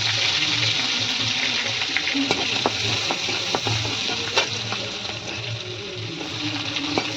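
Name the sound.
garlic tempering sizzling in hot oil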